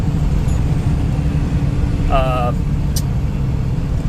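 A steady diesel engine drone from a Jeep JKU with an M57 swap rumbles throughout while cruising, with a brief higher whine partway through.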